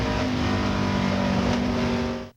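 A hard-working car engine revs high and steady during a 1998 Busch Grand National race at Darlington, a loud sustained droning roar that cuts off abruptly at the end.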